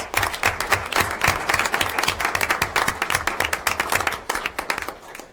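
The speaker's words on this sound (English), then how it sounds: "So give yourselves a round of applause, guys." A round of clapping fills a school board of education meeting as a state regional championship team is honoured, distinct hand claps overlapping into steady applause at moderate volume, tapering near the end.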